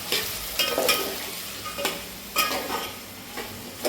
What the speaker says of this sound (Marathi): कोथिंबीर टाकली की त्याला चांगलं जरा हलवायचं